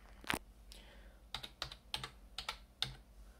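A name being typed on a computer keyboard, a few scattered key taps spaced out unevenly after one sharper opening click, faint and near in a quiet room.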